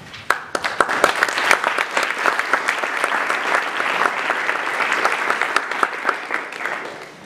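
Sustained audience applause fills a panel discussion hall, dense and steady with sharp individual claps standing out, loud and close throughout with no talking.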